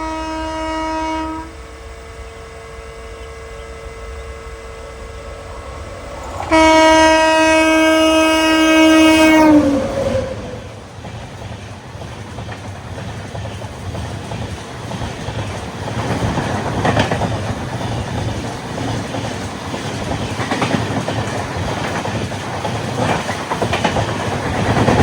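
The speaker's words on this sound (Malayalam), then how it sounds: "ആ ട്രാക്കിൽ കൂടെ ഇപ്പോൾ ട്രെയിൻ വരുവേ" The Ernakulam–Mumbai Duronto Express blows two long loud horn blasts as it nears, then passes close by on the track with a steady rumbling clatter of wheels that lasts for many seconds.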